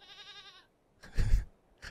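Sheep bleating in the video game Paddenstoel Jager Simulator, a single wavering bleat after a faint tonal sound, close and clear against near silence.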